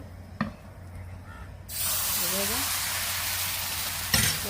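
Pitha batter hits a lightly oil-brushed pan and bursts into a loud, steady sizzle that continues evenly for several seconds after a quiet start.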